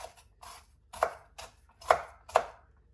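A knife finely chops onion on a cutting board in a home kitchen, with six or so crisp, evenly spaced strokes at close range and no talking.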